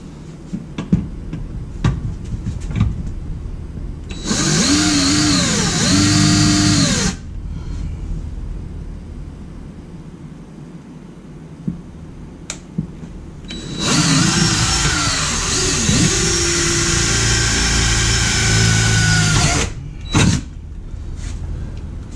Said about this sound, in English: so I'm gonna re-drill it